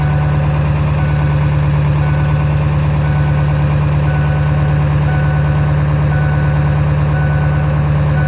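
Diesel Powerstroke pickup truck engine at high idle, a loud, steady, close rumble with an even pulsing drone that holds unchanged throughout.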